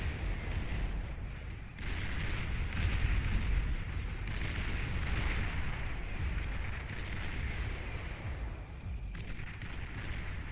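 A nuclear strike detonates in the real-time strategy game Beyond All Reason, producing a continuous deep, rumbling roar with crackling bursts that holds steady and loud throughout, with no speech.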